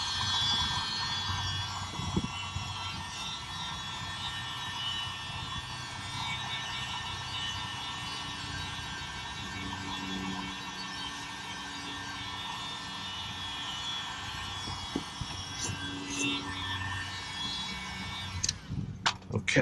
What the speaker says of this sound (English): we'll use the heat gun just to go over it to dry everything up